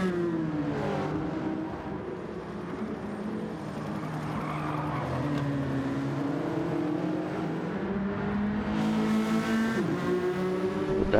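Gr.4 race cars lap Mount Panorama in a racing video game, with loud, continuous engine drone rising and falling through gear changes and brief tire squeal, close and steady throughout.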